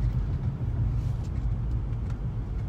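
Car driving along, a steady close low engine rumble and road noise with no other sounds on top.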